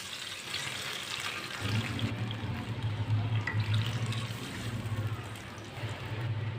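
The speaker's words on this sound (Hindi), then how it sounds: "2 प्याली पानी डालेंगे।" Two cups of water pour into a pan of hot ghee with whole cumin and coriander seeds, a broad steady rush and hiss that starts after a brief pause and keeps going to the end.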